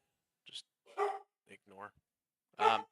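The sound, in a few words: dogs barking in the background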